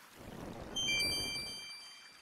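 Water pours into a water skin at a fountain in the Quest for Glory II video game, a short steady gurgling pour that rises slightly before fading, with no voices.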